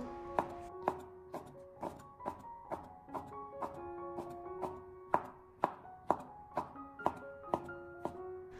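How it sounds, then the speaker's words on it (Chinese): A knife chopping cleaned shiitake mushrooms into thin strips on a cutting board, a quick regular series of about twenty crisp close thunks, fairly quiet, with no talking. "先把它改刀切成薄片，然后切成香菇丝"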